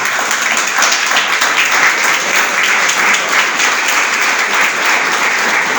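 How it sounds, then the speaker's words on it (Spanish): Steady, loud applause from a church congregation fills the space, a dense wash of many hands clapping at once that carries on unbroken from start to finish. "¿Cuánto le damos aplauso a Dios por eso?"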